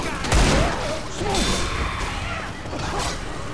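Dense, continuous gunfire from the Left 4 Dead 2 video game, rapid bursts and whooshing action sounds filling the mix loudly, with voices talking over it throughout.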